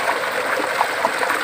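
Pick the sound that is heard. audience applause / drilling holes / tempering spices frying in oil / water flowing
water flowing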